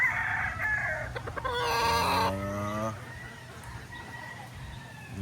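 Boston Millionaire gamefowl roosters crowing: one full, clear crow with harmonic layers near the middle, amid clucking and background farmyard noise, with someone speaking over the birds.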